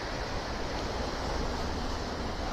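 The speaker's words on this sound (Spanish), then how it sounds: "Vean allá las olas." Rough, churning sea waves roar in a continuous broadband wash along the shore at Villa del Mar after a storm, loud and steady with no talk.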